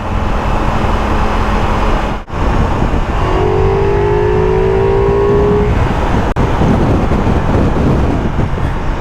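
A Ducati Multistrada V4 S motorcycle pulls hard in fifth gear, its engine droning loudly and steadily close to the microphone with a rising tone and heavy wind buffeting throughout.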